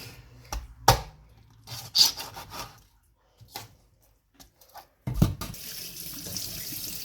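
Raw chicken, left whole rather than deboned, is rinsed under a running kitchen tap, with splashing water in short uneven bursts, quiet pauses and a steadier, louder gush near the end.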